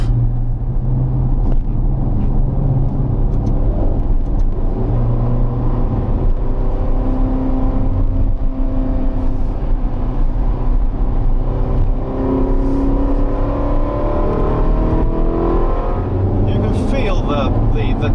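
A turbocharged Ferrari engine hums and pulls steadily while driving, its pitch rising as it accelerates, heard from inside with talking over it.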